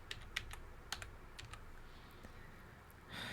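Quiet typing on a computer keyboard: a few light, irregular keystroke clicks spaced apart over a soft background hiss.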